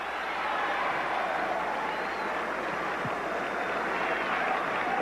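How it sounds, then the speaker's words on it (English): A tennis crowd at the 1982 Transamerica Open final applauds Jimmy Connors with a dense, steady roar of clapping and cheering, sustained throughout at a distance. "The crowd giving their encouragement."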